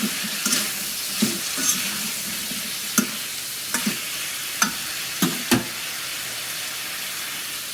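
Vegetables fry in a pan on a home stove, with a constant sizzle and periodic clacks of a spoon as they are stirred, close and fairly loud, without speech.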